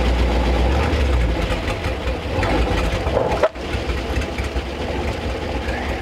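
Old 1957 Chevy Viking truck, abandoned for 50 years, with its engine running in a steady rough idle close by, a brief knock or thump midway.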